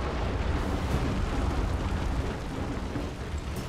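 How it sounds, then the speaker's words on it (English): Cannons fire in a battle in the video game Total War: Shogun 2, a dense, rumbling barrage of booms that blend into a loud, continuous roar across the clip, with no voices on top. "For whatever reason now, our cannons have decided they want to work."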